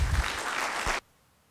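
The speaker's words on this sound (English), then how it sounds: "On peut l'applaudir, je pense." Audience applause closes a keynote at a conference, a dense burst of clapping that runs for about a second and then cuts off abruptly into near silence.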